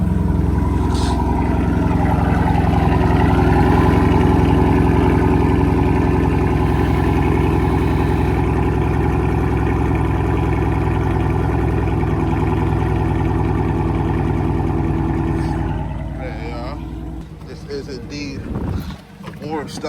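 SRT 392 Challenger with a full boiler attack exhaust idles after a warm start, a loud, deep, steady rumble close to the microphone with wind buffeting, then trailing off near the end amid handling noise.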